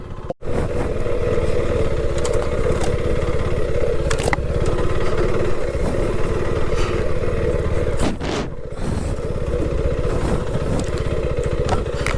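A 2026 KTM 390 Adventure motorcycle rides through deep backcountry woods, its engine droning loud and steady with constant wind rush and a couple of brief dips.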